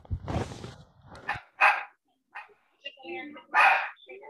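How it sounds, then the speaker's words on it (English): A dog at an online training camp barks and yips in several short sharp bursts with gaps between them, loud and close, alongside some faint speech. "I believe the dog is learning."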